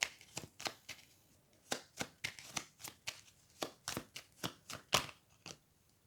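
Petit Lenormand cards being shuffled and drawn: about twenty sharp, close card flicks and slaps in a quick, uneven rhythm, with nothing else heard.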